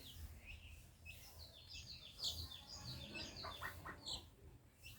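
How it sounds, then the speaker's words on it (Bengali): A mixed flock of domestic ducks with ducklings of three different ages gives faint, scattered chirps and peeps over a steady low background hum, with no clear talk. "আমার এই হাঁসগুলোর মধ্যে তিন রকমের হাঁস একত্র হয়েছে"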